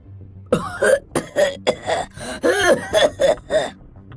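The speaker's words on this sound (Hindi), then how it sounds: "तभी अचानक शेर सिंह जोर जोर से खांसने लगता है" A cartoon lion coughs loudly again and again, a rapid series of harsh, raspy coughs close to the listener.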